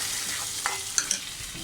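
Tempering for a Kerala chickpea curry is stirred in with a faint sizzle and a few light spoon clinks against the pot, close and quiet with no talking.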